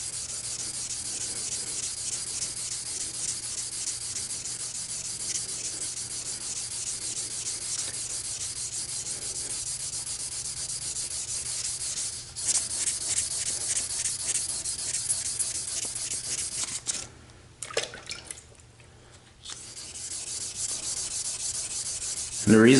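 Hand sanding an aluminum frame with sandpaper in a crisscross X pattern, a continuous close scratchy rubbing that runs steadily, briefly pausing and changing pressure near the end.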